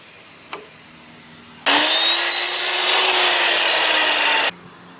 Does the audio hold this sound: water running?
no